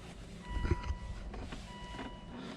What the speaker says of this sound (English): I'm gonna shut this door because this annoying buzzer